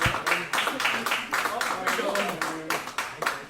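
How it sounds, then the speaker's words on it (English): Live audience at a comedy podcast show clapping in a brisk, uneven patter of applause that carries on steadily for a few seconds, fairly close and dense. "Give him a round of applause"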